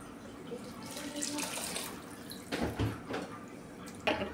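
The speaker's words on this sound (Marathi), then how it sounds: "आता आपण पाणी टाकून घेऊया।" Water being poured into a pot of rice and vegetables for veg pulao, a faint steady splashing and gurgling stream with a few stronger surges toward the end, heard alone and close by.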